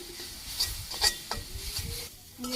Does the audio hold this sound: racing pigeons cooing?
no